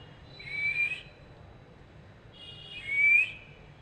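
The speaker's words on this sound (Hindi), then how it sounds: "सीटी बजाओ, सीटी बजाओ।" A pet talking parrot, a tota named Mittu, gives two clear rising whistles about two seconds apart, close and loud against a quiet room with no voices.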